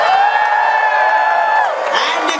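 A crowd at a pirate-themed show cheers and whoops together in one sustained burst, loud and close, tapering off after a couple of seconds.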